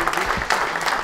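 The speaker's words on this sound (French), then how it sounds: "je pense qu'on peut vous applaudir" A crowd at a youth rugby tournament applauds, a dense wash of clapping at close range, with a voice briefly audible over it.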